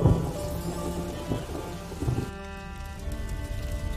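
Steady rain and rolling thunder in the video game A Plague Tale: Innocence, a dense continuous downpour with low rumbles swelling around the middle, plus a faint game music bed and no talk.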